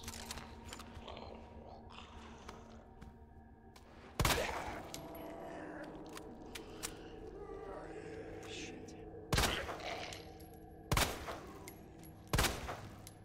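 Gunshots crack in the Resident Evil Remake, four spaced, loud reports over a low rumbling background, with faint game sounds between them.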